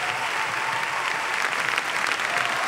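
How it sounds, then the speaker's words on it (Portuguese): A church congregation gives a steady round of applause, a dense wash of clapping that holds evenly throughout. "Queria que vocês recebessem ele aí com um aplauso abençoado"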